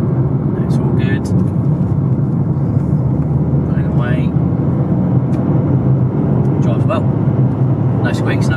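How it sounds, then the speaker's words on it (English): A 2014 Vauxhall Adam 1.4 Jam drives along a road, a steady low engine and road hum heard from inside the cabin with faint clicks and a voice talking over it. "But driving it down the road now, drives well, pulls nicely, all smooth."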